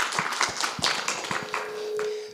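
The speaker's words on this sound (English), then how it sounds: "so I think you can all give them a warm applause now" Scattered clapping from a conference audience in a meeting room at a science forum in Katowice: sparse, uneven claps with a few sharp taps and a brief ringing tone near the end.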